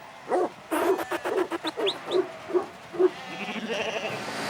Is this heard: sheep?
yes